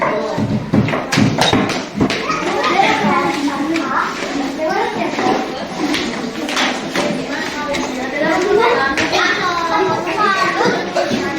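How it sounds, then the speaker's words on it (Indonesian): A classroom group does a rhythmic 'tepuk salut' clap, sharp patterned claps mixed with children's voices chanting along. "Kita beri tepuk salut."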